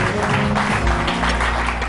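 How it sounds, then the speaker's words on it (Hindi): Studio audience applause on a Pakistani morning television show during a paratha-cooking segment, a dense loud clapping wash lasting the whole moment, with a bed of studio sound beneath. "तालियां हो जाएंगी इससे"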